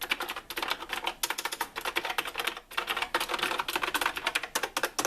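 Fast typing on an Azio MK Retro typewriter-style mechanical keyboard with blue switches, crisp clicky keystrokes rattling in quick irregular bursts with a few short pauses.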